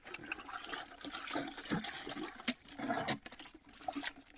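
Water splashing and pattering as kokum fruit is washed, a busy, irregular sloshing with occasional louder splashes throughout, fairly close and with no talk over it.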